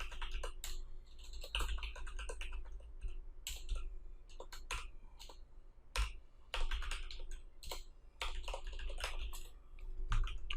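Fingers type on a computer keyboard while writing an HTML file, a close, steady clatter of key clicks in quick irregular bursts with short pauses between.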